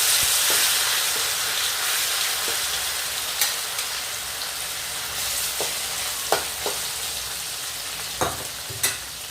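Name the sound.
fish frying in oil in a pan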